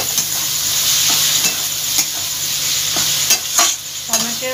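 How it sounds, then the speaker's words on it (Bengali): Finely chopped tomato fries with garlic and ginger in hot oil, a close, continuous hissing sizzle broken by several distinct scrapes and taps as a spoon stirs the pan. "টমেটোরও একটা কাঁচা গন্ধ থাকে, সেটাও যতক্ষণ না যাবে তেলের মধ্যে ভালোভাবে নেড়ে যেতে হবে"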